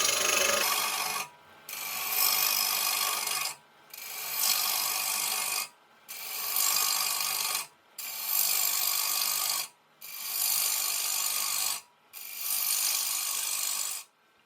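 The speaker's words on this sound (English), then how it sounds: "I'm using my 1/2-inch bowl gouge and just cutting in and starting to remove the center." A 1/2-inch bowl gouge cuts into the centre of a wooden bowl spinning on a lathe, giving a steady loud rasping hiss in about six long passes separated by short pauses, with no talking.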